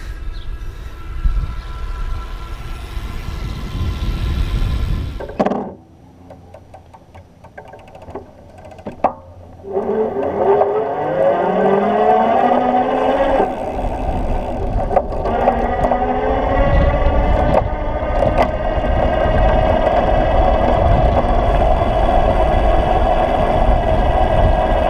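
EG Vienna 250 e-bike hub motor run on its trigger throttle, a whirring electric whine rising in pitch as it spins up after a brief quiet pause, then holding steady and fairly quiet.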